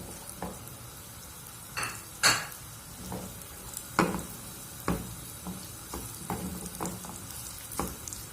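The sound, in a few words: onions frying in a pan for smoked fava beans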